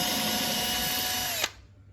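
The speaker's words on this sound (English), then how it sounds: "make sure you drill through the table which I built earlier" An electric drill bores holes through a homemade wooden router table with a loud, steady high whine that winds down sharply after about a second and a half.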